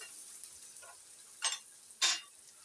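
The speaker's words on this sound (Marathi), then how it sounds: "बारीक चिरलेला बटाटा आहे तो घालते" Chopped potato drops into a pan of frying onions, setting off two short bursts of sizzle against a quiet background, the second slightly louder and longer.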